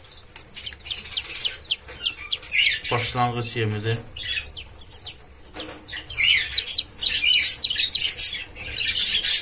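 Koxin chicks peep in shrill, rapid chirps, close and near-continuous, with a voice speaking briefly in the middle.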